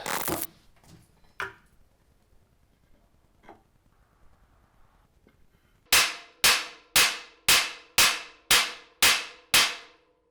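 Hammer blows on a stuck steel seat post of a vandalized New York City fixie bicycle: after scattered clatter, eight loud, evenly spaced metallic strikes ring out close by, each with a short decaying clang.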